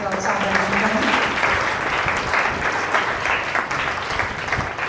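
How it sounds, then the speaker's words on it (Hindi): Sustained audience applause welcoming a child at a school Hindi Day celebration, dense steady clapping from a crowd filling the room for the full duration. "तो एक बार जोरदार तालियों से"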